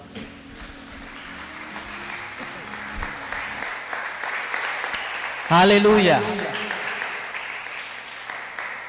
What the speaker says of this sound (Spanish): Póngase de pie y dele un aplauso al Señor